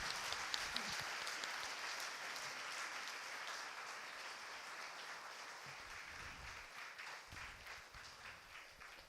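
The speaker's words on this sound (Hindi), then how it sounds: "जोरदार ताली बजाएंगे ईश्वर के लिए, जोरदार ताली बजाएंगे" A church congregation applauds for God in a dense, sustained wash of clapping that holds at an even, moderately distant level throughout.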